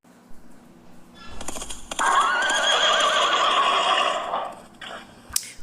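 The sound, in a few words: horse neighing, Alexander the Great's horse Bucephalus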